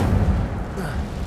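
A brief Incendio fire spell blast in Hogwarts Legacy, a dense low rumble sustained for about a second with no voice over it.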